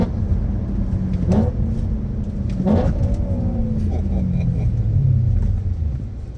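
The V8 in a BMW E90 M3 with a six-speed manual rumbles low and steady under driving, with brief rev changes and a few clunks heard from inside the car.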